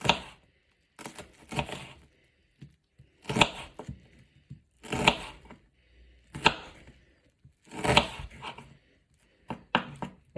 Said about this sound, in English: when you chop it across like this